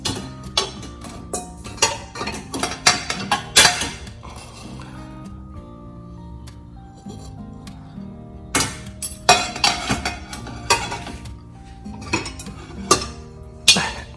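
Porcelain and glass dishes clink and clatter while being unloaded from a Texgio TG21H775B dishwasher, a steady run of close, bright knocks and rattles with brief pauses between handfuls.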